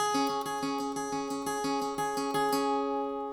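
Picked electric guitar intro of a song, a steady, rhythmic run of evenly spaced picked notes over ringing strings, played alone and fading out at the end.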